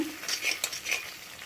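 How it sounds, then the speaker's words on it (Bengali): A masala spice paste for egg curry sizzles in a pan while being stirred, with soft scraping strokes and light frying crackle heard close up for a moment. "আরও কিছুক্ষণ এটা কষিয়ে নেব মশলাটা।"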